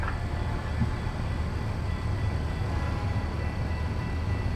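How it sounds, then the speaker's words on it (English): Modded train sounds in American Truck Simulator: a continuous, close rail rumble of a passing train with a brief higher tone near the start. No voices are heard. "I believe I've got a train sound app mod installed from Zeemods."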